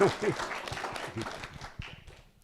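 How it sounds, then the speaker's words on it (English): Audience applause at a Doylestown, Pennsylvania community evening, with scattered clapping mixed with voices talking over it, fading slightly toward the end of a short burst. "Let's give him a big round of applause for being with us"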